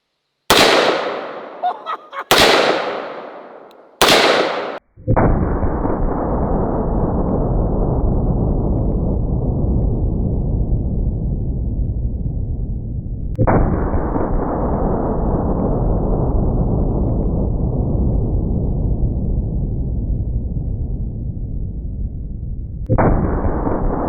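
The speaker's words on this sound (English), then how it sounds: "All right, now for the full-blown 500 Magnum." .500 Magnum revolver shots: three sharp cracks in quick succession, then three more loud blasts, each followed by a long ringing decay, close and alone without talk.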